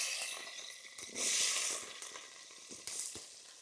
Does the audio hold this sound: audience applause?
no